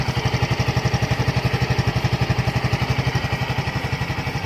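A low-mileage Yamaha Mio Gear scooter engine idles close by with a fast, even putter and a faint rattle, steady for the whole stretch.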